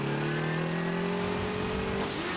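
A black motorcycle in a Detective Conan animated movie, its engine revving loudly and close, a steady snarling note that climbs in pitch near the end of the short burst.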